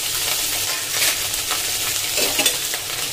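Asafoetida and green chillies hitting hot oil for Gujarati bataka poha, a loud close sizzle with a spatula stirring and scraping through it.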